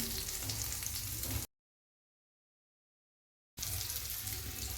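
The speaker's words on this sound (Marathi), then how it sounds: "कमी गॅसवर त्याला भाजायचं आहे" Bangda mackerel fish frying in oil on low gas, a steady close hiss and sizzle that cuts off abruptly into full silence before resuming just as loudly.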